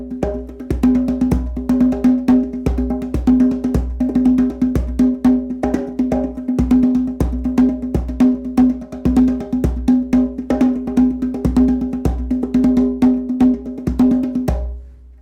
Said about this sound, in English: All I did was add some bass tones and some slap tones and just some technique, kind of created into kind of the rhythms that I tend to play.